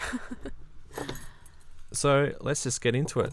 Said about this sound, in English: fiddling with keys